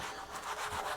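Cloth steadily rubbing protective oil off the metal surface of a new bandsaw, a continuous close, soft swishing wipe with gentle rhythmic strokes and no talk.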